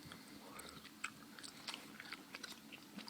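Laffy Taffy candy being chewed close up, with faint, soft, sticky mouth sounds and small irregular clicks in a quiet room.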